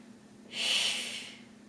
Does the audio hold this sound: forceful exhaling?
yes